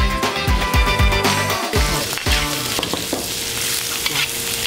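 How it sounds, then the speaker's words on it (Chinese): Smoked cured pork stir-fried in a wok, loud continuous sizzling with rhythmic scraping and clanking of the spatula against the pan, close up. "熏制过的腊肉最常用来爆炒"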